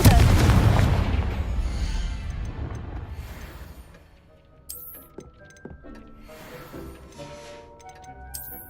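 A Confringo spell explosion in Hogwarts Legacy: a loud, close blast that rolls into a long, fading rumble, followed by scattered glassy clinks and small pops over quiet background sound.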